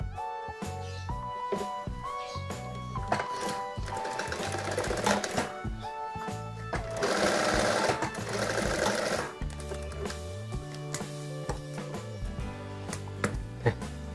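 A sewing machine stitches a child's dress in bursts of rapid mechanical whirring and needle clatter, starting and stopping repeatedly, close and loud throughout.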